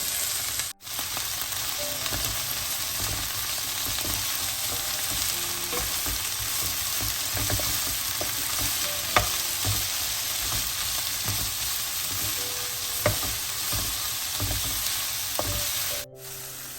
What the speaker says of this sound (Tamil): வெங்காயம் ஒரு நிமிஷம் வதங்கி கொண்டு வரவே இந்த கேரட், பச்சை மிளகாயை சேர்ப்போம்